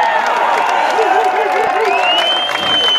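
Large crowd at an outdoor political rally cheering and clapping in a steady roar that holds level throughout, with a whistle-like tone rising near the end.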